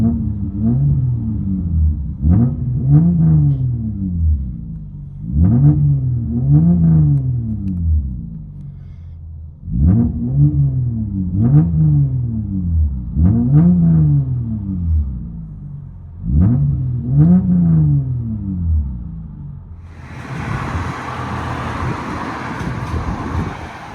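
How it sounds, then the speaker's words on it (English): 1995 Toyota Camry 3.0L V6 fitted with a NETAMI spiral muffler, heard from inside the cabin: a deep rumbling drone rising and falling in repeated rev sweeps, ending in a burst of broadband road and wind noise. "It's a Toyota Camry with a NETAMI spiral muffler."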